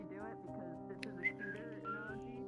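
A person whistles with a wavering, sustained tone that imitates gusting wind, fairly faint and close, without other sounds over it.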